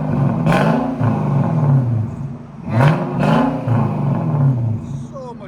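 Infiniti M45 4.5L V8 with no catalytic converters and a Jones exhaust revving hard twice, its deep rumbling roar climbing and falling in two swells, loud and close, with a steady idle between.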